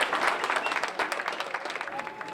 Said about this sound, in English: Let's give Fred and the Jeans a great round of applause for their efforts here.